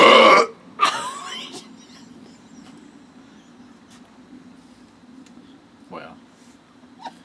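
A loud, deep burp opens the sequence, followed quickly by a second long rumbling burp, then a few faint smaller sounds over quiet background hum after a sunset orange drink chug.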